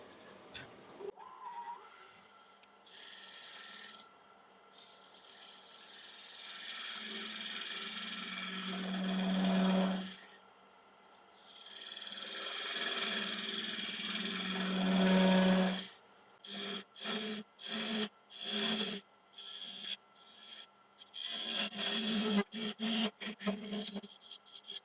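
Lathe tool hollowing a yew log into a vase, with long bursts of rough scraping and rasping broken by pauses, then a run of short, choppy cuts near the end.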